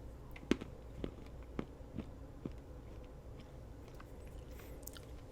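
Bites into a Feastables chocolate bar: a sharp crisp snap up close, followed by several softer crunches and quiet chewing in a near-silent room.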